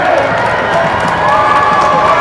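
A Lambton Lions home basketball crowd on its feet in their gym during a whiteout night roars steadily, a loud, sustained wall of cheering and shouting.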